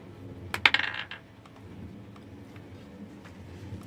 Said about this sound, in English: I gotta roll out some of these dice